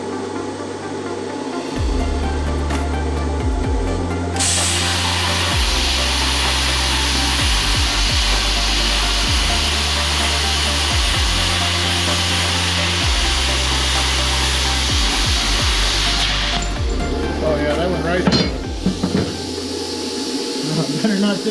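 A loud, steady hiss and roar of a YesWelder CUT-65DS plasma cutter slicing metal at 40 amps, with a rhythmic low hum pulsing underneath throughout.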